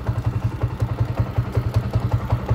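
Honda TMX155 motorcycle engine with a rough timing gear, running steadily on a test drive, a close, loud, rhythmic low-pitched chugging with some clatter.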